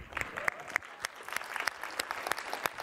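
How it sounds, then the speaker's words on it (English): A keynote audience at an Apache Cassandra tech conference claps, a thin scattering of individual hand claps at moderate distance with no voices over it. "Who is going to start clapping?"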